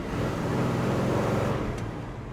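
A 1970 Chevrolet Chevelle SS drives along with a steady, moderately loud engine and road rumble that fades slightly toward the end.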